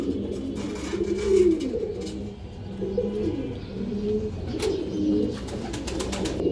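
Silver female pigeons and males coo in a loft, rhythmic throaty rolls repeating every second or so, close and moderately loud over a soft rustling bed with occasional sharp clicks.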